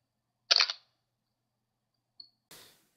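A DSLR camera takes an exposure at a sixth of a second, with a sharp shutter click followed by a brief pause and then a softer closing clack, all close up in a quiet room.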